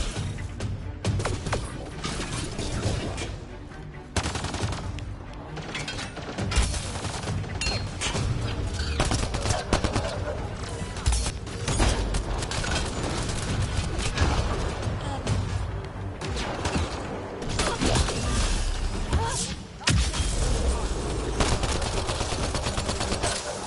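Mass Effect Andromeda combat gameplay with dense, continuous automatic gunfire, rapid shots and impacts layered with crashes and booms, loud throughout.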